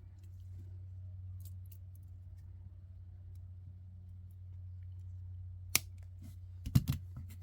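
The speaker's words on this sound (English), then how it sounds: "now snip that off so it's gone" Scissors snip beading thread on a butterfly necklace, a couple of faint, sharp close clicks near the end over a low steady hum.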